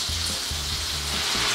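Tofu fries in a pan for palabok, sizzling steadily and close up with a bright, continuous crackle and a low rhythmic scraping underneath.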